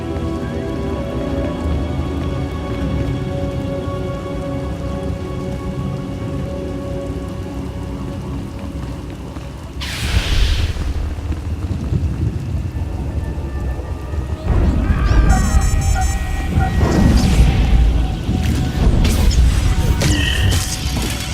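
Rainstorm in the SWTOR game world: steady heavy rain pours throughout, with loud thunder crashes breaking in around the middle and again later, lasting to the end.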